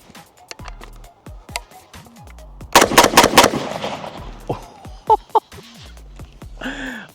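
New Century AP53 gun firing magnum rounds, a rapid burst of loud sharp shots followed by a few single reports, close by, with scattered clicks and handling noise around them.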